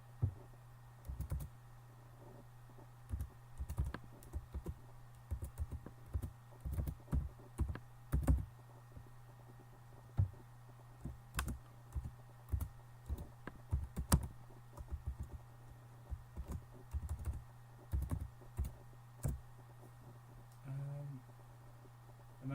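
Password being typed on a computer keyboard, with irregular clusters of quiet close key clicks over a steady low electrical hum, spread across the whole stretch.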